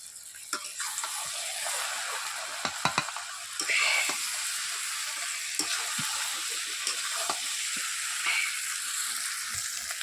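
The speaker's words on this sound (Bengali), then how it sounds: "তো মাংসটা প্রায় কষা হয়ে এসছে" Meat stir-fried for kosha in a pan over a wood-fired clay stove, constant loud sizzle and hiss with scattered scraping stirs and clanks, close up, no talk.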